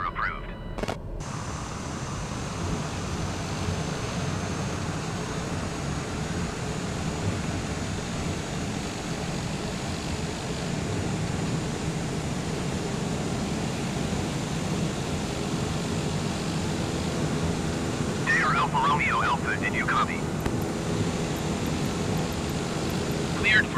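An aircraft in Microsoft Flight Simulator 2020 takes off from runway 25 at TUPJ in the US Virgin Islands, producing a steady, even engine roar mixed with a windy hiss that carries unbroken throughout.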